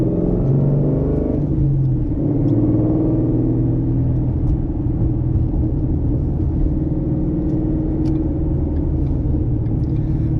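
A car drives steadily around a roundabout and merges onto a freeway, its engine and road rumble loud and continuous, with a gentle rise in revs as it accelerates up the on-ramp.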